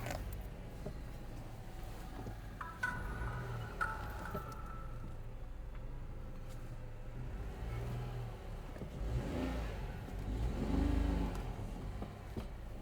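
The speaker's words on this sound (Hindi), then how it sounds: "तो गाड़ी अपनी हो गई है स्टार्ट" A Renault Triber idles and revs as it creeps up a hill obstacle, low engine rumble with a couple of rising revs and some creaking mechanical sounds, fairly quiet and steady with no talking.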